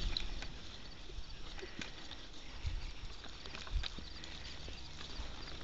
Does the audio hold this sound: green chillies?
no